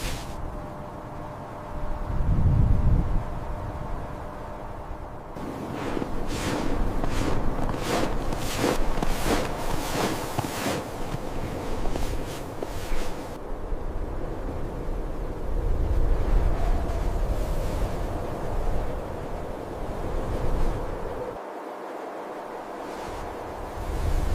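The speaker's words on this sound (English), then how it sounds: "Wind travels unchallenged across kilometers, carrying the weight of emptiness." Steady wind gusts sweep across a frozen Yakutian landscape, a broad continuous roar with rushing buffets that swell and fade, no voices present.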